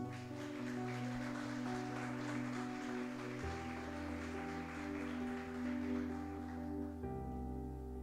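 A church congregation applauds in a steady, close patter of clapping layered over sustained keyboard chords, fading out after about seven seconds.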